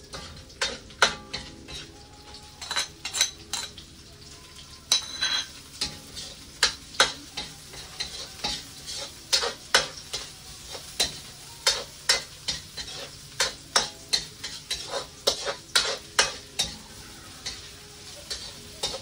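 Garlic and onions sautéing with chopped leftover lechon kawali in a pan, a steady close sizzle broken by frequent sharp scrapes and clinks of a utensil stirring against the metal in an uneven rhythm, with no voices.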